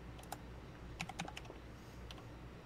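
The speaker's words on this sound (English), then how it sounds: "I hear a lot of typing." Faint, quick keystrokes on a computer keyboard tap in short irregular bursts in a quiet room, distant and soft with no voices over them.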